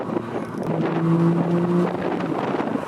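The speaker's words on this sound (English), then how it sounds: "the exhaust sounds so good" A car engine and exhaust rumble up close as it drives with its doors removed, with heavy wind buffeting the microphone.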